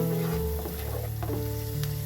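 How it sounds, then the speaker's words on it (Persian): Onion with turmeric and black pepper sizzles and fries in a pan, a continuous close crackle with occasional stirring scrapes, no talking. "یکم تفت میدیم."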